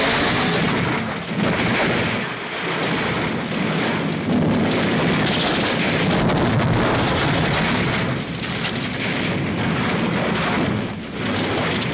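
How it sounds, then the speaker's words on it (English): A hearse skidding off a mountain road down a ravine and exploding in a film scene, a continuous loud roaring rumble of blast and crashing debris with swelling surges, no talk. "their hearse skids off the road, down a ravine, exploding and killing them"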